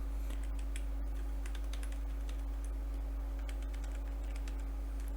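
Rapid, uneven keystrokes on a computer keyboard as an Ansible Vault command is typed, clicking steadily in close bursts over a low constant hum, with no speech.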